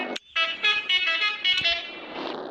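A car horn blares several times in quick succession in an online multiplayer video game, loud and close, with a brief honk at the start.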